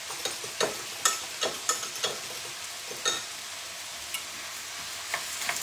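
Beef stew with stock being stirred in a pot for slow-cooked beef, a series of close wet scrapes and sloshes in an irregular rhythm, with no talking.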